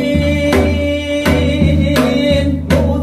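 Mulheobeok water jar drum played as Korean folk song accompaniment, four sharp resonant strikes at an even slow pulse, ringing over a sustained tonal background.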